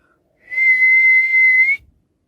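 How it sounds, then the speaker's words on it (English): A squirrel whistle effect from a children's story: one clear, high, sustained whistle tone lasting just over a second, loud and close, alone in silence. "he made a special squirrel whistle, and this whistle could be heard way"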